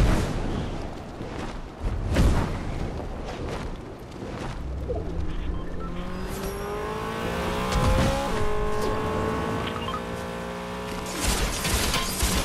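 A car drives in Fortnite, its engine note rising and shifting in pitch as it revs and accelerates, mid-distance, layered over game ambience with a faint bird call and no voices.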